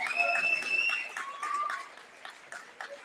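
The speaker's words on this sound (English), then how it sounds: "If we could have a round of applause for them." Applause from the stands at a girls varsity basketball game, a dense patter of clapping with cheering voices mixed in, steady and fairly loud for about two seconds before thinning out.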